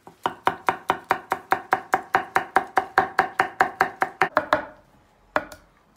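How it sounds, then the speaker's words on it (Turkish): Rapid, steady knife chops through garlic on a cutting board, about twenty sharp strikes in quick rhythm, then a pause and one last chop. "Soğanımızın içine hemen sarımsakları da doğrayacağız."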